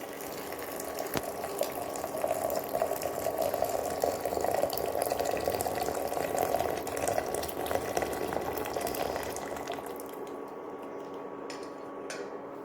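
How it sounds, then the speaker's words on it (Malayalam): Hot tea water brewed with leaves is poured off the stove through a strainer, a steady close splashing trickle that runs several seconds, then thins out and stops. "സ്റ്റൗ ഓഫാക്കി നമ്മളിത് വാങ്ങി അരിച്ച് എടുക്കുന്നു"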